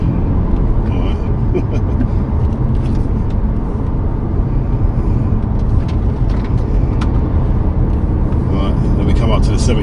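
A 1994 Mercedes 600SL with a 7.2-litre V12 accelerates on an open road, a steady loud engine drone with road and wind rumble holding for the whole stretch, heard from inside the car.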